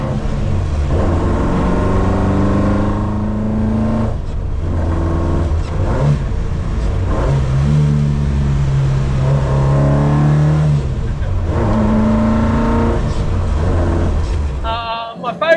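A small track car's engine revs up and down repeatedly, rising pitch sweeps held at high revs in the power band, loud and close, with someone talking over it throughout.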